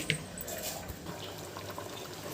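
Water pours into a cooking pot while ragi sangati, a ragi-flour dish cooked with rice, is being prepared; a continuous soft splashing stream runs close by.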